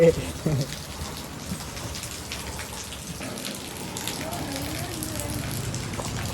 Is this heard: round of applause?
no